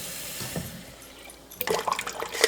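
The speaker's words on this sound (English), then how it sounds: "I'm just gonna soak these with some water." A kitchen sink tap runs onto seeds being soaked, starting as a quiet trickle and then bursting into louder splashing water for the last second, close by with no speech.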